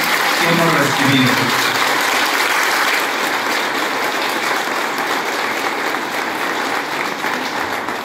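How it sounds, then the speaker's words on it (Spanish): Sustained applause from a congregation at a church celebration on the eve of the feast of San Antonio de Padua in Ciénega, Jerez, steady and dense throughout, with brief voices rising over it near the start. "Damos un aplauso a Dios nuestro Señor por su gran que hemos recibido."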